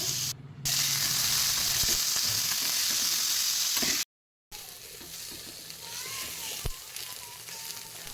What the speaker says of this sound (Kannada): ಕಾದಿರೋಂಥ ಕಬ್ಬಿಣದ ತವಾದ್ಮೇಲೆ ಹಾಕ್ತಾ ಇದ್ದೀನಿ. ಇದಕ್ಕೆ ಅರ್ಧ ಅಥವಾ 1 ಸ್ಪೂನಷ್ಟು ತುಪ್ಪವನ್ನು ಹಾಕ್ಕೊಳ್ಳಿ.